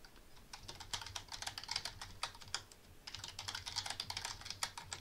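Rapid keystrokes on a computer keyboard while a master password is entered, two steady bursts of close, crisp clicking with a brief pause near the middle, no voices.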